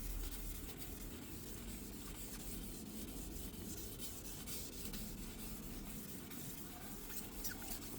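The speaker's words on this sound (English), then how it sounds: "Just finally taking out all the scratches that you put in." Steady hand sanding rubs back and forth on a surface to remove scratches before polishing, a quiet, continuous rasping close to the microphone.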